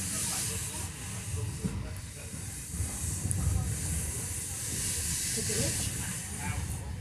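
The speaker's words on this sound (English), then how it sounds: "can you hear the steam train? The engine." The Gwili steam train engine hisses with a continuous bright steam roar, while low rumbling and faint movement noises sit underneath throughout.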